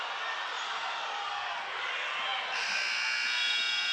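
A game-ending buzzer at a high school girls' basketball game sounds a loud, harsh, sustained blare that grows brighter midway through, running over crowd noise and an announcer's talk.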